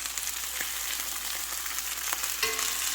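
Steak sizzles steadily in a pan with balsamic, a bright continuous frying crackle with occasional stirring clinks, heard close and alone.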